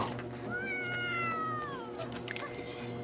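Cats yowl in long, wavering, drawn-out cries over a steady background hum, ending with a few short clattering sounds.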